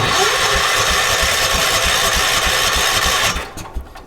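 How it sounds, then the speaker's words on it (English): The engine of a vintage 1980s UTV cranks steadily in a fast, rhythmic churn for about three seconds without catching, then cuts out abruptly, leaving near quiet. The sound is loud and close, with no talking. "So hopefully that'll get the engine to run."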